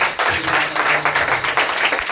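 Loud, dense clapping from a church congregation at a Telugu Sunday worship service, a continuous wash of many hands filling the space for about two seconds with no voices over it.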